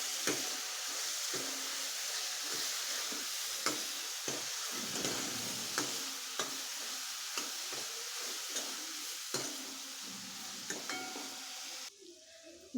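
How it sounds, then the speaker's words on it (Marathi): Ground masala paste sautéing in a pan for a Bhogi bhaji, a steady sizzle with regular light taps and scrapes of a spatula, ending in a brief quieter moment, no speech. "हे दोन मिनिट परतून घ्यायचं व्यवस्थित"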